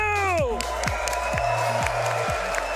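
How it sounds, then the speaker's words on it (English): A large esports arena crowd at the Manchester Major Dota 2 quarterfinals cheers and claps continuously, a dense roar of applause and whoops filling the space, with a tonal swoop at the start. "Round of applause for yourself, Manchester."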